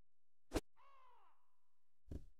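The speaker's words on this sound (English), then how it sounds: "Well, there's some birds, I think." A crow caws once in the quiet ambience of the Resident Evil Zero video game, set between two sharp louder thuds or footsteps, with no one talking.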